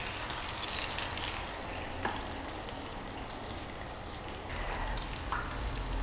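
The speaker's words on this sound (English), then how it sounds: "you just submerge the tofu and you let it fry for about 3 minutes" Tofu pieces deep-fry submerged in hot oil, giving a steady, soft, even sizzle with faint crackles and pops, close by and without speech.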